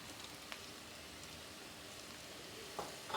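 Garlic ginger paste goes into a pan of lightly browned frying onions, producing a steady, close crackling sizzle throughout with a couple of brief stir clatters near the end.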